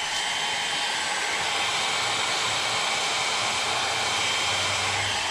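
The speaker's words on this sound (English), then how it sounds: "And then let's get the blow dryer again." A hair dryer blows continuously at close range over poured paint, a steady loud rushing hiss with no pauses.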